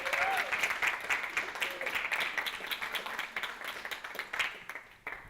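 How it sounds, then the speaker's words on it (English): An audience at a creative writing workshop reading applauds in a steady round of clapping that gradually thins out, with a voice briefly audible at the start. "I think they deserve a special round of applause."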